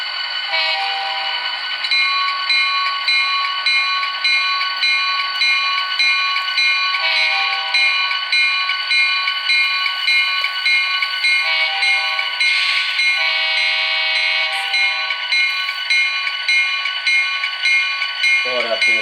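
An Atlas HO scale GP40-2CU model locomotive in NECR 3015 livery plays its sound decoder, a steady electronic horn-like tone chord that holds and repeats for several seconds.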